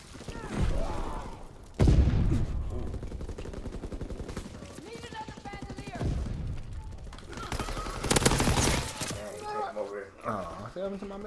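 Gunfire in a World War II-style shooter, scattered bursts and single shots of varying distance rattling through the scene, mixed with ongoing talk and a few louder close cracks.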